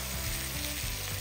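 Vegetables frying in tomato paste and oil in a pot, giving a brief, steady, close sizzle with soft stirring, with no voices.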